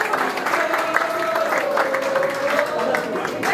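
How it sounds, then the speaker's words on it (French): Applause from a church congregation, a dense continuous patter of clapping under a sustained tone, with voices mixed in the background. "Vos applaudissements une fois de plus."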